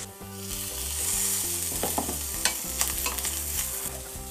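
Potatoes fry in a pan with hot melted ghee, giving a steady loud sizzle with stirring scrapes and clicks of a utensil on the pan throughout, no voices.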